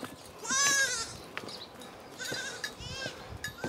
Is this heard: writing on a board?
no